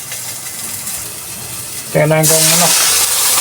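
Chicken drops into hot oil in a pan and a loud, steady sizzle takes over, following a quieter stretch where a person speaks briefly.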